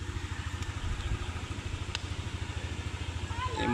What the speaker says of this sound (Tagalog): Yung motor na yan, layo na narating.